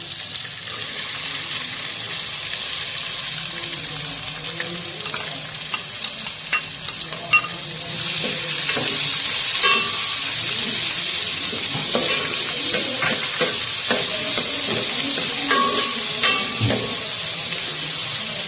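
Diced potato and capsicum frying in a pan, a loud continuous sizzle with repeated scraping and stirring strokes of a spatula, close up and without talk.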